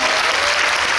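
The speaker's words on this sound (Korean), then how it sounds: "여러분들도 박수를 한번 보내주시기 바랍니다." Brief burst of dense audience applause for actress Lee Joo-young at a film screening talk, loud and continuous throughout the short moment.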